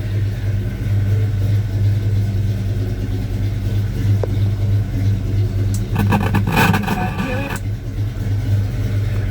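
A 1984 Chevy C10 pickup truck idles with a steady, loud, low rumble close by, broken by a brief sharper burst of noise partway through.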